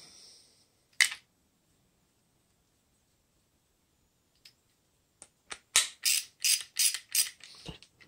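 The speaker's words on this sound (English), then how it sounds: "we'll put our lock nut back on there." A lock nut being threaded back onto the drive belt tensioner of a Can-Am F3 Spyder, a sharp metallic click early on, then a quick series of close ratcheting clicks in a tight rhythm near the end.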